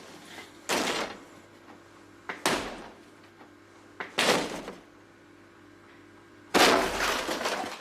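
A police battering ram thudding against a door in a horror film, four separate heavy blows spaced a couple of seconds apart, the last one louder, with a low steady hum between them.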